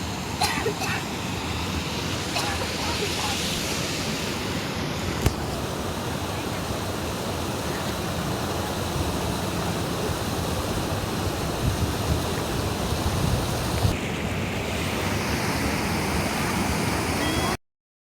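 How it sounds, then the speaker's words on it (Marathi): A babbling village stream where clothes are washed, near a temple, rushes in a steady, continuous broadband wash of flowing water that stays close and even from start to finish. "हा एक खळखळता ओढा"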